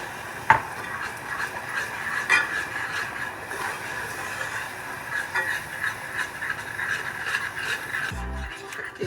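Coconut milk is stirred into a vegan macaroni and cheese sauce, giving a faint, steady scraping and sloshing with a few sharper clinks of the utensil against the pot.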